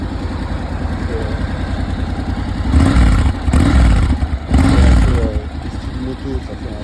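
A Yamaha TMAX 560 Tech Max scooter engine idles with a low throbbing rumble, then revs up several times in short bursts before dropping back to idle.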